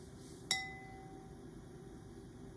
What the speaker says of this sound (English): This beaker has a natural oscillation which can be produced by gently tapping its brim.